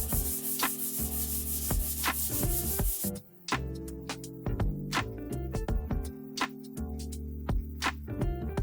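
Sandpaper of 320 grit is rubbed by hand across a metal beer keg in repeated back-and-forth strokes, a rough scraping rasp that carries on with only a brief pause.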